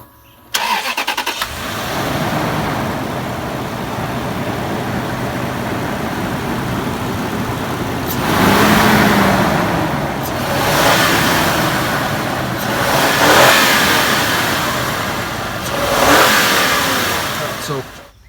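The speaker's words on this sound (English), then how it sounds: "I want to start the engine, rev it up for you a bit so we can hear how wonderful this V8 engine is" A V8 car engine cranks and fires up near the start, then settles into a steady rumble broken by several loud revving surges, close and powerful.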